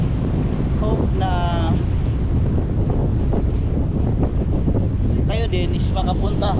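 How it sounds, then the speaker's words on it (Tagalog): Strong wind roars against the microphone at sea off Tawi-Tawi, with big ocean waves rumbling loudly and continuously underneath and voices talking partly over the noise. "And ang lalaki ng alon, no?"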